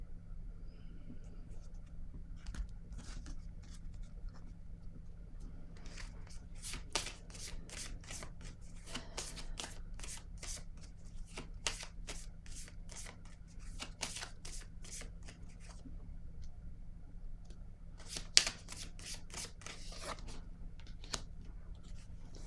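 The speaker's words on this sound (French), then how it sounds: "Je vais piger une autre carte." Tarot cards are shuffled and handled at close range, with soft rhythmic flicks and riffles in clustered bursts over a quiet background, followed by a brief sharp tap.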